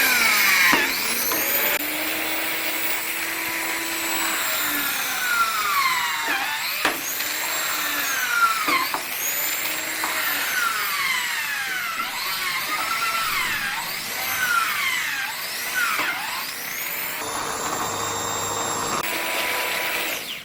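A DC motor drill runs on a 59-volt, 2.7-amp e-bike charger, giving a loud, continuous motor whine that rises and falls in pitch as the speed shifts.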